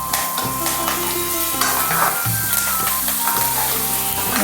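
Curry leaves fry in hot oil in a pan for a bitter gourd karam, giving a close, steady sizzle with repeated scraping stirs of a spoon against the pan.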